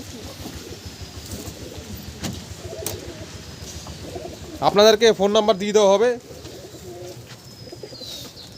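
Kalanka pigeons coo close by, low soft coos under steady background noise, with someone talking briefly in the middle.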